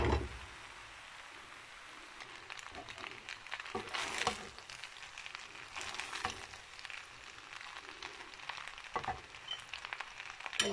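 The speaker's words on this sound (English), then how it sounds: "Guys, we are still frying it." Shrimp and pasta fry in a pan with a soft, steady sizzle, broken by louder bursts of crackling and scraping as the food is stirred close by.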